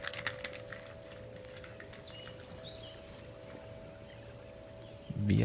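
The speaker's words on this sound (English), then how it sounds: "Let me get some water." Water pours steadily into a glass at close range, a continuous soft trickle lasting several seconds in a quiet room before a louder knock at the end.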